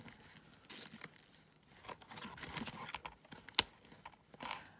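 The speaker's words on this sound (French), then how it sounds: "Ludivine a enfin réussi à ouvrir son colis." A parcel being torn open by hand, with quiet tearing and crinkling of paper or plastic, scattered rustles and one sharp rip, close but soft.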